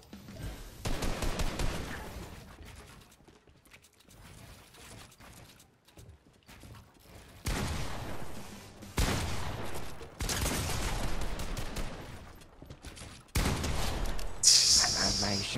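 Bursts of rapid Fortnite gunfire rattle in several loud volleys, separated by quieter gaps, with game sounds continuing throughout.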